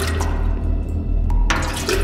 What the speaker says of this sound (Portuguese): Opa, virei a água!